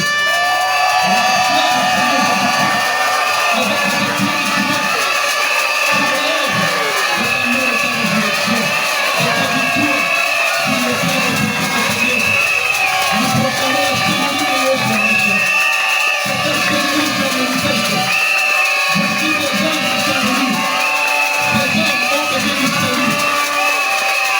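Church congregation at a consecration service cheering and acclaiming loudly, a sustained crowd roar with whoops over music, swelling in repeated bursts.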